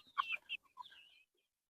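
A few quick, faint chicken clucks sound in a short burst, then fade into quiet.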